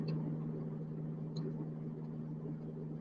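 A car with a faulty wheel bearing gives a steady low drone with a strong tonal hum from inside the cabin, constant and fairly quiet, with a couple of faint clicks.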